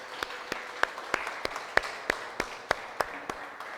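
A church congregation claps in unison in praise, sharp rhythmic claps landing roughly every third of a second over a faint murmuring wash of scattered hand claps.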